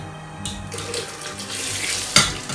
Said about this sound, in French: On ajoute maintenant le lait tiède, notre lait tiède.